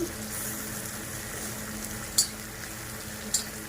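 Food frying gently in a pan on a gas stove over low heat, with a steady soft sizzle throughout and two brief utensil clinks near the end.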